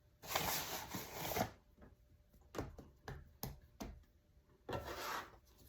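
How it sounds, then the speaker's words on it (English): A bench scraper scrapes and flips sweet potato biscuit dough on a work surface, giving a long rough rubbing scrape, then a string of short sharp taps and scuffs, and a final brief scrape, close and moderately loud with no talking. "take your bench scraper and turn over"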